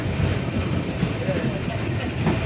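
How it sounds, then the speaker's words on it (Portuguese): A passenger train riding on rails in Brazil, heard from inside as a loud, steady low rumble of wheels with a constant high whine running through the whole stretch, no voices. "É muito bom a viagem assim de trem."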